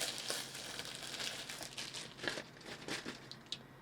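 Packaging for a Temu wireless lavalier microphone crinkles and tears as it is ripped open by hand. The plastic rustles closely and softly in short irregular bursts, with no voices.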